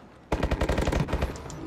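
A rapid automatic burst of hip-fired gunfire in Call of Duty: Advanced Warfare, played on PS4 in a free-for-all match: a loud, close stream of about a dozen evenly spaced shots cutting in suddenly and running for over a second.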